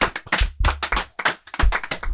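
A small group claps at a podcast taping, uneven bursts of close hand claps and slaps with brief gaps, loud and dry, with no crowd roar.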